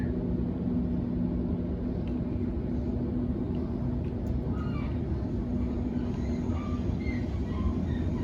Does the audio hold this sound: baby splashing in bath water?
no